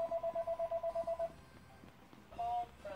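A home telephone rings in a rapid train of about ten short repeated electronic pulses, fairly faint, then pauses before a single longer tone sounds, with a muffled voice in the background.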